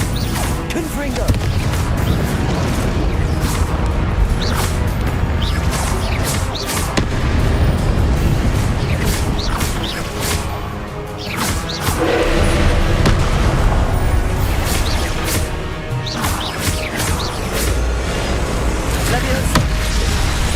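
Repeated fiery Confringo blasting-spell explosions in the Hogwarts Legacy video game, loud booms and crashes stacked over continuous battle noise, with a voice speaking intermittently throughout the dense combat.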